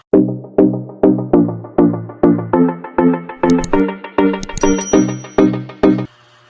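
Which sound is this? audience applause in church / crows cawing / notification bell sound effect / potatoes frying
notification bell sound effect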